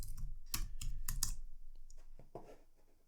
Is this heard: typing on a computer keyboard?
yes